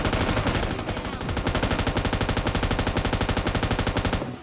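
An M249 light machine gun firing a long continuous automatic burst in PUBG Lite, rapid evenly spaced loud shots that run without a break and cut off near the end.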